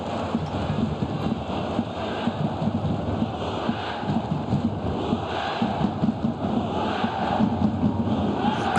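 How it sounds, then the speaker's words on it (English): A football stadium crowd at an AFC Champions League quarter-final first leg between Shanghai SIPG and Guangzhou Evergrande roars steadily and loudly throughout, an excited, continuous wash of cheering with no clear breaks. "Crowd were excited to get Wu Lei on the ball."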